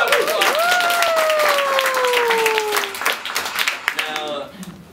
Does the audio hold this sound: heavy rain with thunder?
no